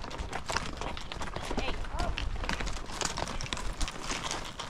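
Several horses on a cattle-style horse drive clip-clop at a quick pace, hoofbeats scattered and overlapping close by, with steady outdoor rumble and voices talking over them.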